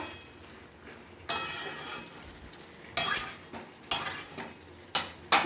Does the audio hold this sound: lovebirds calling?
no